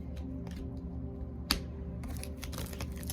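Tarot cards shuffled by hand at close range: soft papery riffles and brief bursts, the sharpest near the middle, more clustered toward the end, over a low steady hum with no talking.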